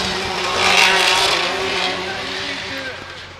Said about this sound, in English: Look at the sound of that VR38 right there.